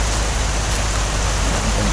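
Heavy rain pours down on a mountain, a loud, dense, unbroken roar close by.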